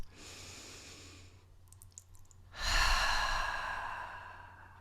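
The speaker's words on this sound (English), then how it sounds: "And another breath in. And one more cleansing breath." Deep cleansing breaths during a guided meditation: a soft breath sounds first, then after a short pause a long, full exhale swells up and trails off slowly, close and alone.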